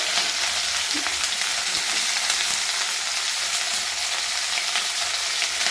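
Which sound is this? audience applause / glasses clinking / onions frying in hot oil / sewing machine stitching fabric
onions frying in hot oil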